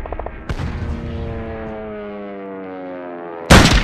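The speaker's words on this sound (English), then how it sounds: "When bored, you shoot the head off your teammates." Gunfire in the video game Return to Castle Wolfenstein, a sharp shot at the start and another loud burst at the end, with a ringing tonal sound in between.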